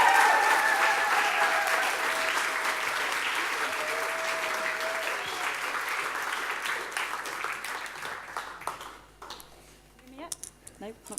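Audience applause at a live event, a crowd clapping steadily and loudly for several seconds before thinning out and fading near the end.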